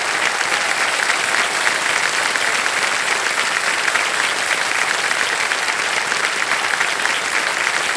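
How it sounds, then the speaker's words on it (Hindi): Studio audience applause on the Indian quiz show Kaun Banega Crorepati, a dense, steady, loud roar of clapping that holds evenly throughout with no one speaking over it. "ताली बजती रहे, ताली बजती रहे इनके लिए।"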